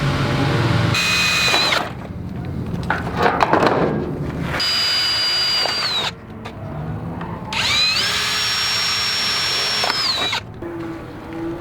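A power drill whines in several bursts, its pitch rising and falling as it spins up and slows, with grinding noise and pauses between runs.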